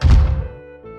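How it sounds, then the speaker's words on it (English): Someone banging on a bedroom door in a video game: a single heavy, deep thud that rings briefly and fades, loud and close, followed by a faint low tone. "There is someone banging the bedroom door."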